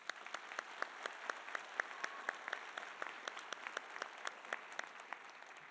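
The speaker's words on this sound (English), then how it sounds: "Let's all give a huge round of applause." Steady applause from a commencement crowd at a community college, a faint, even patter of many hands clapping continuously for several seconds with no voices on top.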